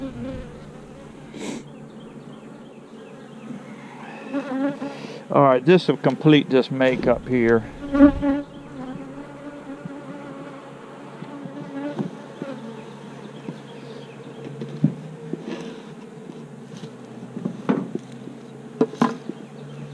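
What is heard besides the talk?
honey bees buzzing at a hive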